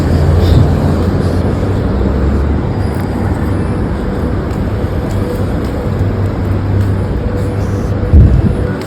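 A car pulls up and stops outside a Marathi-speaking woman's home at half past three in the afternoon, a steady low engine and road rumble running loud and close, easing off briefly before a short bump near the end.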